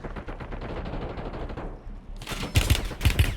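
Call of Duty Warzone video game gunfire, a fast rattling burst of automatic shots up front, then after a short lull several loud, heavier blasts close by.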